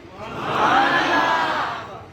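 A crowd at a religious speech roars out a slogan together, a swelling chorus of voices that rises, holds and fades over about two seconds.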